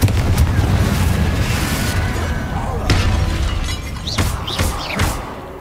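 Spell explosions from Confringo in the Hogwarts Legacy video game crack and boom through dense combat noise, with sharp bursts near the end over a constant rumble.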